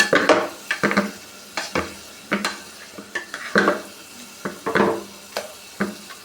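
Cooked lentils mashed with a ladle in a pot for sambar, heard as a string of close, wet, squelching strokes with clinks of metal on the pot rim, steady and rhythmic with no voices.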